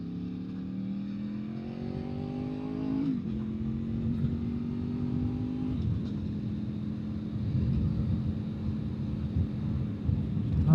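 A V4 motorcycle engine hums steadily while riding, with gear shifts stepping the pitch down and rising again as the throttle is eased on, heard alongside wind noise.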